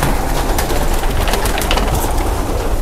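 Pigeons in a racing loft flutter and coo nervously as a frightened bird shifts about, a steady close bird sound with scattered wing and scuffing noises and no talk.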